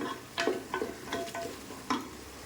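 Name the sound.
sautéing biryani paste in a pan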